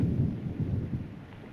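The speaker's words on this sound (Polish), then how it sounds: "Ojej, deszcz. Schowajmy się." Low rumbling thunder rolls continuously with a steady wash of rain underneath, fairly loud and close, with no voices.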